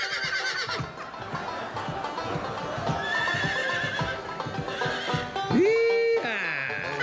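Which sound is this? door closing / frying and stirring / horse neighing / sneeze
horse neighing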